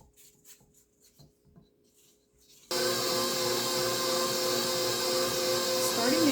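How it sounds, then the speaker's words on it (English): Dry sourdough ingredients being mixed in a bowl, starting with quiet scattered taps and then switching abruptly to a loud, steady whirring and rasping like a stand mixer running for several seconds. "Back to turning, getting the dry ingredients mixed."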